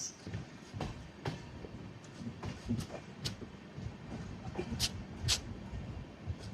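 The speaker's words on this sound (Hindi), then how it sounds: "गांधी धाम नागरकोइल एक्सप्रेस।" The Gandhidham Nagercoil Express passes on the Konkan Railway with a continuous rumble of wheels on track. Sharp clacks and squeals repeat at irregular intervals, close by and moderately loud.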